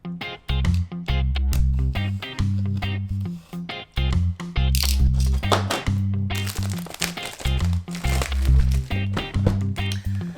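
Plastic film wrapping peeled off a LattePanda Delta box gives a close, loud run of crinkles and sharp tearing crackles in bursts, with no voices.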